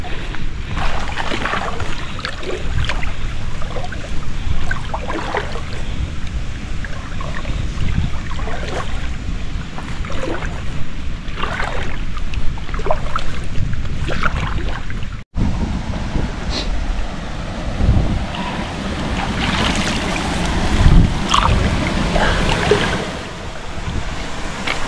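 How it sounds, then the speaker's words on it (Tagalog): Strong wind roars and buffets the microphone in gusty rushes, with faint water and boat sounds beneath. "Lakas kasi hangin talaga."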